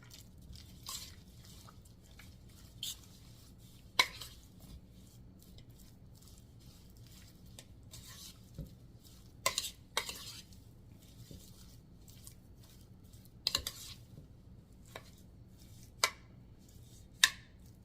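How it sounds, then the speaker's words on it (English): Curry chicken being stirred in a pot with a spoon, giving scattered soft wet squelches and occasional sharp scrapes and clicks against the pot over a low steady hum, close and fairly quiet, with no talking. "So let me give it a stir."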